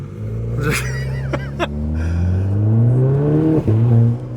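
A remapped Renault Clio RS tuned to 240 bhp accelerates hard in first gear. The engine note climbs loud and close, dips briefly at a gear change, then rises again.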